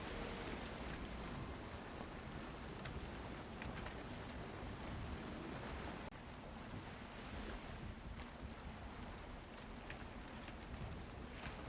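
Sailing boat in the video game Valheim, running full speed with the wind: a steady, continuous rush of wind and breaking waves against the hull, loud and unbroken throughout with no talking.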